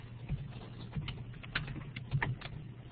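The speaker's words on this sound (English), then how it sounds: "You start typing in the name" Someone types on a computer keyboard while entering a journal name into a search box, the keys giving rapid, uneven clicks up close.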